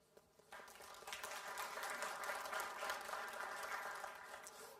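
Audience applause at a business conference in Romania starts abruptly and holds as a dense, steady patter of many hands clapping, easing off at the end.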